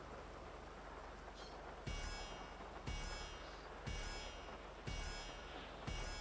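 Rain falling during an open-wheel car race in the video game GTA Online, a steady wash of noise broken by a sharp burst about once a second.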